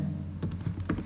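HTML code being typed on a computer keyboard, a few quick irregular keystrokes close by and fairly quiet against a low background hum.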